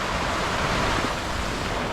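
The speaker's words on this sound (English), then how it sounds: "This is a torrential downpour" A torrential downpour lashes a sailboat at anchor around Falmouth Harbour, a dense, unbroken hiss of heavy rain that stays loud and even throughout, with no voices.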